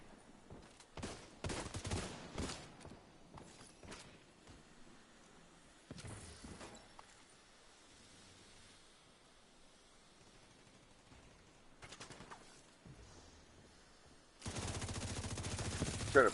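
Bursts of automatic gunfire from The Division 2 rattle in quick clusters, followed by quieter stretches with a few isolated shots and a loud noisy rush at the end.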